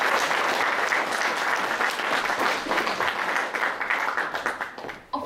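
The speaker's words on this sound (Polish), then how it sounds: "Oraz proszę o ogromne brawa dla Mileny." Sustained crowd clapping greets a presenter at a Polish stage show, full and continuous, thinning toward the end before a brief sharp sound at the close.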